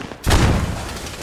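Gunfire from friendly soldiers in the military shooter game Squad: a sudden loud burst of booming shots that starts abruptly and rolls on as a dense, sustained rumble.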